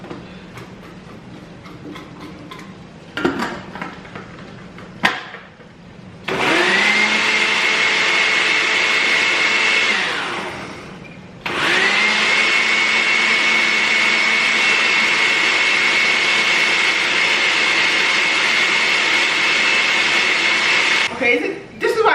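A kitchen blender whirs loudly while making Nigerian jollof rice, running in two long steady bursts with a brief stop between them, after some clattering and handling noises at the start.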